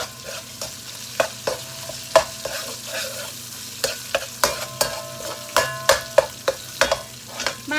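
Garlic and yellow curry paste stirred in a hot pan while cooking Lao yellow curry crab: a utensil scrapes and knocks against the pan in repeated, uneven strokes over a low, steady sizzle.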